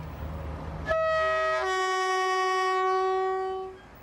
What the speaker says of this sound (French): La locomotive est prête.